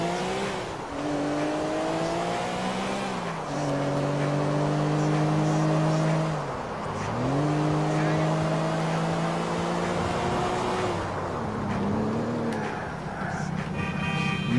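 A fast car in Grand Theft Auto IV drives with a loud, steady engine whose pitch climbs and drops through repeated gear changes, with faint tire noise underneath.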